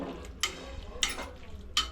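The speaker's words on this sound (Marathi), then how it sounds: "आता घोटून घेते मी बारीक करून पूर्ण." Pressure-cooked vegetables for pav bhaji are mashed fine in a pot, giving three close, soft squelching thumps spaced about half a second apart over a quiet kitchen background.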